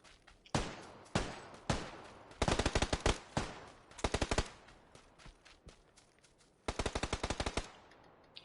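Gunfire in the PUBG battle royale game on PS4, with several sharp bursts of automatic fire and single shots in clustered volleys separated by short gaps, loud and close with no voices over it.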